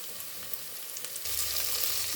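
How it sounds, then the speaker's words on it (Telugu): Ginger garlic paste hits a hot pan midway while making bagara rice, and a quiet crackle swells into a loud, steady sizzle. "ఇందులో ఒక స్పూన్ అంతా అల్లం వెల్లిగడ్డ పేస్ట్ వేయాలండి"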